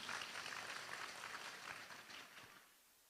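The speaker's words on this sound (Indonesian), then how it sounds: "Tepuk tangan untuk kita semua" An audience at a religious gathering applauding together: dense, steady clapping from many hands, fairly distant and soft, fading out toward the end.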